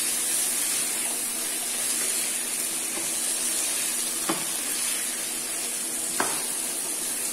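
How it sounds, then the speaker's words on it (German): Pork browning in a pan for an Asian potato stew gives a steady, loud, even sizzle and hiss throughout, with a couple of faint clicks from stirring. "Und das lassen wir jetzt anbraten, bis das so richtig schön braun geworden ist."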